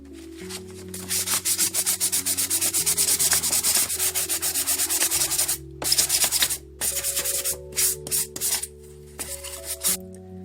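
Rapid rhythmic rubbing strokes of sanding a scale model's base, a long run of quick back-and-forth scrapes and then shorter bursts with pauses, close by.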